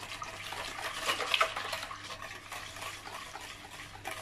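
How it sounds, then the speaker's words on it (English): A whisk stirs vanilla essence into a milk tart mixture in a bowl, making a steady, soft, wet swishing with a slightly louder flurry midway and no talking. "Take the whisk and just mix that through."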